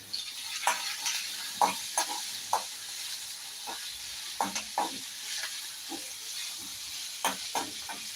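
Garlic, ginger and chili fry in a pan for a chickpea curry. A steady sizzle runs throughout, broken by repeated scraping stirring strokes.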